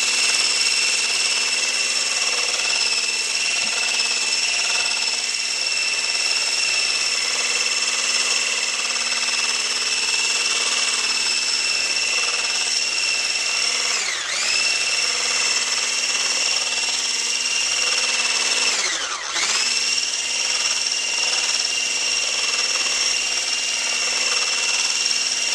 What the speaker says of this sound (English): I'm going to use a stick blender with a whisk attachment.